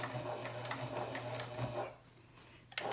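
A Janome HD9 sewing machine runs in a steady rapid whir with a mechanical hum, reinforcing a stitch. It stops briefly near the end, then a short clunk is heard.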